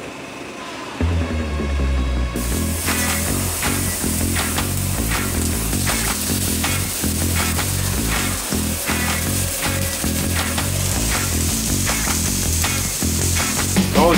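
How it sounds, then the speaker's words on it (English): Steaks hit a hot pan with a sudden loud sizzle, then sear in a steady, close, crackling hiss that spits and pops throughout. "If you're wondering how to sear a fucking steak"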